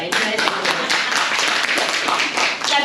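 An audience at a breast cancer awareness seminar claps in a dense, continuous burst of many hands, close and fairly loud, without a break.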